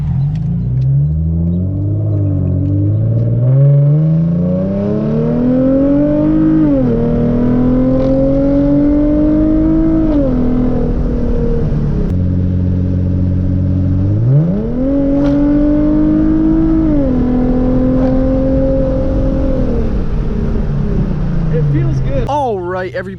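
A modified Hyundai Genesis Coupe with the 3.8 V6 and an engine leash installed revs and accelerates hard, its loud, sustained engine note climbing through repeated rising sweeps with brief dips between gear changes.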